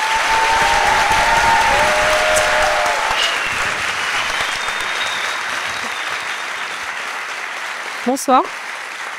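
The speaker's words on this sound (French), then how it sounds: "Merci d'applaudir très fort Aurélie" An audience at a storytelling evening applauds loudly to welcome Aurélie, clapping strongly at first and then tapering off, before a voice briefly greets the crowd near the end.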